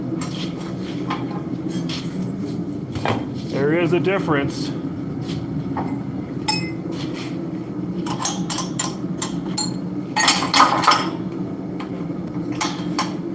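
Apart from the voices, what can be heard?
swapping metal dies on a forging press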